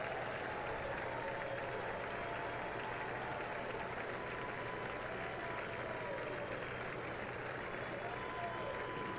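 Applause fills the House chamber of the US Congress as the president arrives for the 2024 State of the Union address. The clapping is dense and steady, with a broadcast voice talking over it at moderate distance.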